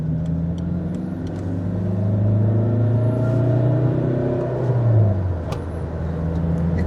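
Engine of a Fiat Multipla droning steadily with a low rumble as the gear is changed without the clutch; the pitch sags and then drops off, with road noise underneath and no talking.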